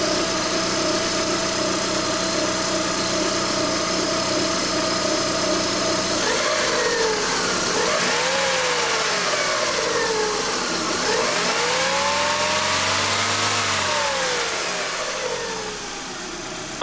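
A Pontiac Sunbird car engine runs steadily, then revs up and down in several rising and falling sweeps, loud and close with no talk, sounding like a race car.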